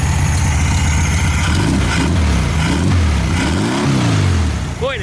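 The engine of a 1974 VW Beetle runs at a steady idle after repairs, with a loud, close, even throb and a slight rise in revs near the end.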